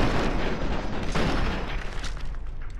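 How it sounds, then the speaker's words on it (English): Gunfire in the video game Fallout 3: a dense, continuous barrage of loud overlapping shots and booms with no clear gaps, filling the whole stretch. "There's so much gunfire."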